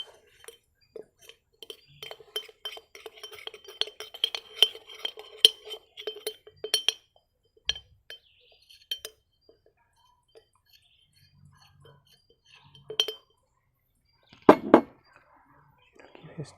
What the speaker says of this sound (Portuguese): Eu misturo um pouco aqui no vidro para ter os ingredientes ligados